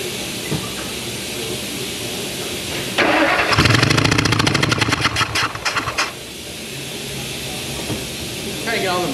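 A 1999 Ford F450 with a 6.8 V10 engine and a blown spark plug cranking and firing, a loud rapid chuffing and hissing burst for about three seconds amid workshop noise, then settling back.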